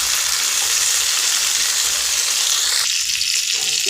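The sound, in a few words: sautéing chopped tomatoes with carrots in a pan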